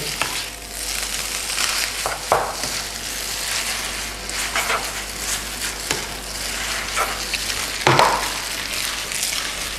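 Spaghetti tossed with red tomato pesto in a hot pan, giving steady sizzling and frying with scraping stir strokes and occasional sharp utensil clicks against the pan, close and continuous throughout.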